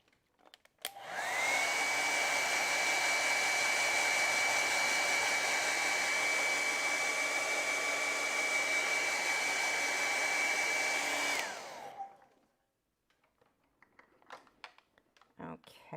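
A hair dryer blows steadily at close range over a watercolor painting, switching on abruptly, holding a loud constant whine with a high tone for about ten seconds, then shutting off and winding down, followed by faint clicks.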